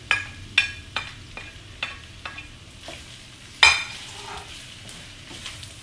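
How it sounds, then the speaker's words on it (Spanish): Tomato and onion cooking in a pan, a low steady sizzle broken by several sharp utensil clacks and scrapes against the pan, one louder knock partway through. "Y esto así lo voy a cocinar un poquito más con el jitomate, con la cebolla"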